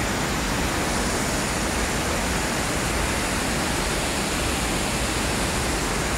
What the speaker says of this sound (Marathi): काय नाव आहे वॉटरफॉलचं? Umbrella waterfall.